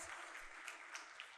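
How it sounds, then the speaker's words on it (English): Applause for high school student winners at a writing, art and video contest ceremony, a faint, brief patter of clapping heard from a distance. "another round of applause"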